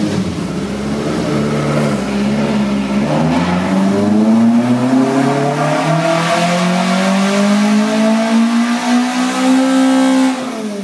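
A 1983 VW Rabbit GTI engine on ITBs revs hard on a Dynapack dyno, its pitch climbing steadily through a long, loud pull with a raspy intake and exhaust roar.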